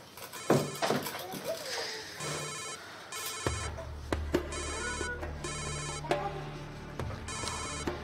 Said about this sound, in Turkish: Abla, telefonun çalıp duruyor ya.